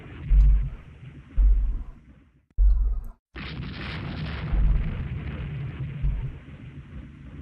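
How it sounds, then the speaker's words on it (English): Forward guns on a warship fire in the naval game Rule the Waves 2, several heavy, deep booms spaced a second or so apart, with rumbling that lingers between the shots. "Forward guns firing only."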